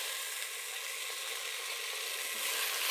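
Minced garlic sizzling in a pan of onions, a steady bright hiss of frying that holds level and swells slightly at the end, close by with no talk.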